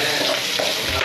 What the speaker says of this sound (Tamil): கருவேப்பில எல்லாத்தையும் போட்டு நல்லா வதக்கிட்டு